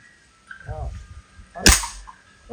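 An air gun fires once at a row of cans at a campsite, a single sharp crack near the end. A brief voice and faint background sounds come before it.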